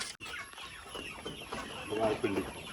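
Country chickens raised at home cluck close by in a quiet farmyard, with soft, steady fowl calls throughout.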